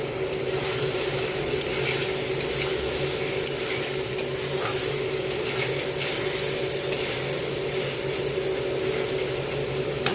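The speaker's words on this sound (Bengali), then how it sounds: "এইভাবে নেড়ে চেড়ে বেশ খানিকক্ষণ মাংসটা কষতে হবে।" Chicken is stirred and fried with spices for a chicken curry, making a continuous dense sizzle with light rhythmic scraping and clicking from the utensil, close and fairly loud.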